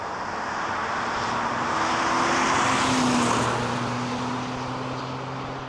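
Honda V6 car with a 6-speed manual pulling hard at high RPM, a loud, steady engine roar heard close from inside the cabin, the pitch climbing slowly and then holding near the top.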